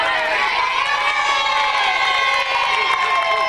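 A big studio crowd cheers and roars steadily at an egg-throwing contest, a loud, dense wall of voices with shouting and excitement sustained throughout.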